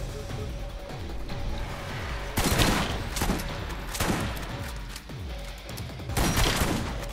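A double-shot gun fires in Borderlands, with dense bursts of loud, booming shots arriving in clusters and brief pauses between them.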